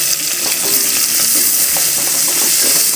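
Chopped tomatoes sizzle and fry steadily in a hot pan for a dry fish curry, a loud continuous crackling hiss with occasional stirring scrapes and no talk.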